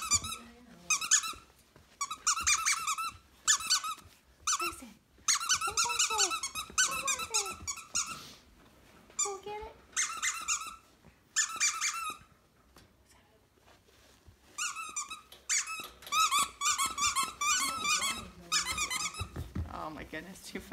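Five-week-old puppies from a litter squeak, whine and growl in high-pitched bursts throughout, playing close by, with people talking softly at times between the yips.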